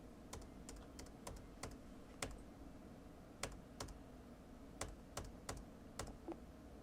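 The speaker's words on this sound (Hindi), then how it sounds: "मैं एंटर कर रहा हूँ, आगे बढ़ रहा हूँ वापस से" Computer keyboard keys tapped while entering GST entries in Tally accounting software, a dozen or so crisp separate clicks in an uneven rhythm, close and fairly quiet, with no talking.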